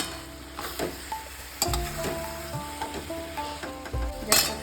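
Ghee and garam masala are stirred into a hot pan of mochar ghonto, a banana-flower dish. There is a steady close sizzle, with a spoon or spatula scraping and knocking against the pan several times.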